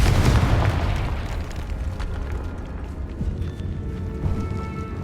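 Fire-blast spell from Hogwarts Legacy, cast in a decaying catacomb, bursts into a loud explosive boom that rolls off into a rumbling, crackling tail lasting several seconds, alone without speech.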